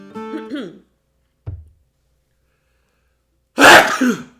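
A sudden, loud sneeze bursts out from someone off camera near the end, preceded by a short vocal sound and a brief faint noise, with silence in between.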